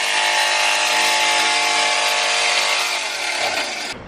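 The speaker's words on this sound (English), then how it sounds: "try a jigsaw. Even though I only have wood blades, it still works." A jigsaw fitted with a wood blade cuts steadily and loudly for about four seconds, a continuous high buzzing whine that stops abruptly at the end.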